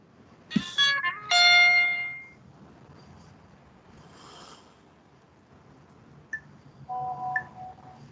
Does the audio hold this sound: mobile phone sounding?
yes